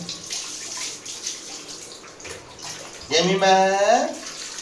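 Faint splashing and rustling early on, then a louder burst of water poured over a Persian cat's back during a bath, splashing close by, with the cat meowing over it.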